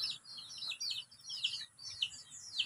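Small birds chirp in quick repeated bursts near a village shop where chickens and pigeons gather to eat scattered rice, the calls fairly faint over a quiet background.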